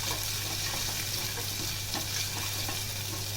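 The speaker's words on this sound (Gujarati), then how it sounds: "આદુ મરચાંને આપણે 1 થી 2 મિનિટ સાંતળશું" Ginger and green chillies sautéing in a pan, a steady, loud, broadband sizzle throughout with faint stirring scrapes and a low background hum.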